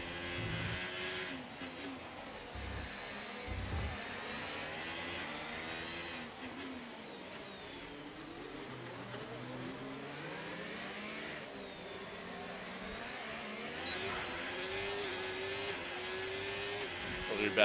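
Formula 1 race car engine in the F1 25 video game, a continuous high-pitched whine rising and falling through gear changes, loud and steady, with a voice talking over it now and then.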